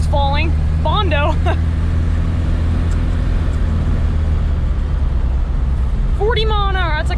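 An Opel GT cruising at about 40 mph with a new Weber 32/36 carburetor, a steady droning engine and road rumble running the whole time beneath voices at the start and end.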